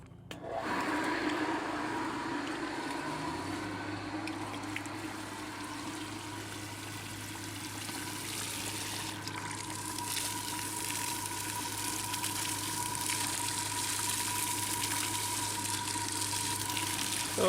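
A homemade dyno water pump runs steadily with a continuous motor drone and a broad hiss of water gushing out, holding at a constant loud level for the whole stretch without any talk.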